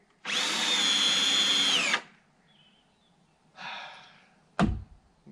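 Up close on a roof, a power drill drives a screw with one long, loud, steady whine that stops sharply. A shorter, fainter drill burst and a solid thunk follow.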